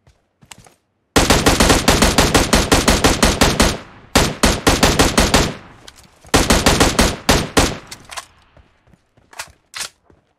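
Automatic rifle fire in PUBG Mobile, loud and close. Long rapid bursts empty a magazine, broken by brief pauses, then a few scattered final shots trail off.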